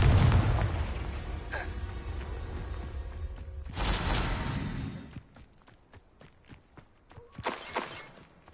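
Confringo blast spell exploding in Hogwarts Legacy, a deep booming burst followed by a second rumbling blast, then crackling debris and scattered footsteps and clatters fading out; loud and close, no voices heard.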